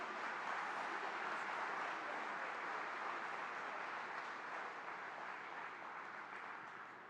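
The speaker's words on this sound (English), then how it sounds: "Big round of applause for our students." Audience applause for students at a ceremony, a steady dense clapping that holds evenly for about seven seconds before easing slightly at the end.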